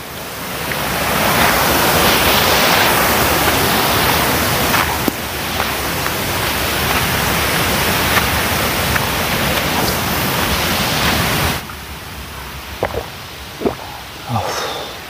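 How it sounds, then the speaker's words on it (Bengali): Clear water streams loudly and steadily down a rocky hillside at Dalma hill, a dense rushing wash that drops away near the end, leaving faint rustles and a few knocks. "দেখুন একদম পরিষ্কার কাছের মতো জল এই নিচে দিয়ে বয়ে যাচ্ছে"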